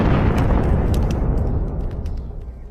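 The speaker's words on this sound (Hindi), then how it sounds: "वहाँ पर बहुत जोर का धमाका होता है" A loud, booming explosion of an egg set over a fire hits at once and rolls on, with crackling debris and a rumble slowly fading over a few seconds.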